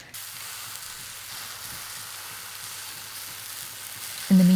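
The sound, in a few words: quartered cabbage frying in a hot pan without oil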